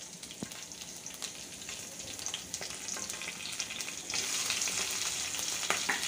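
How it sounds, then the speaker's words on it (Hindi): Cumin seeds and ginger garlic paste fry in a little oil in a kadai, giving a steady, close crackling sizzle with scattered pops that grows slightly louder and brighter toward the end. "मैंने एक कढ़ाई में डाल दिया है थोड़ा सा तेल, और इसमें डालूँगी अब मैं 1/2 छोटा चम्मच जीरा, 1 छोटा चम्मच अदरक लहसुन की पेस्ट"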